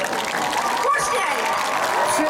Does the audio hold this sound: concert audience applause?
yes